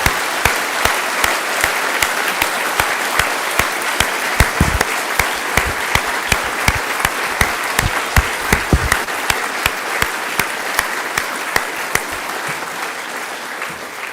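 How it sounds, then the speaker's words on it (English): An audience at a school parents' day applauds the teachers with a long, steady round of dense clapping, loud and sustained, tapering slightly toward the end. "please do join me in offering the teachers here a hearty round of applause"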